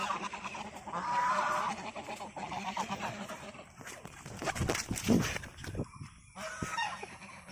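Domestic geese honk nearby amid outdoor bustle in a village in Assam, a loud honking burst early on followed by scattered calls and thumps.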